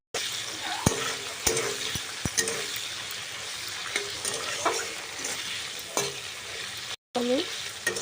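Seeded capsicums are stir-fried with cumin in a pan. A soft, constant sizzle runs underneath as a spatula scrapes and knocks against the pan in irregular, sharp clacks.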